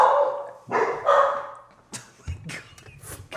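Several dogs bark in short, sharp bursts, a cluster of loud yaps followed by scattered barks and yips at close range.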